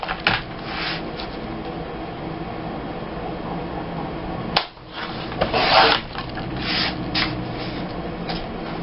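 Scissors cut paper into strips for scrapbooking with repeated soft rasping snips close by, and a sharp click partway through.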